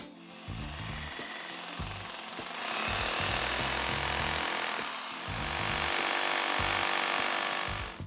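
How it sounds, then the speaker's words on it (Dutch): Loud, steady power-tool drilling with rhythmic hammering pulses, boring holes in a wall for a wall plate, continuous throughout and close by, growing slightly louder midway. "Teken af waar de gaten voor de muurplaat moeten komen en boor de gaten."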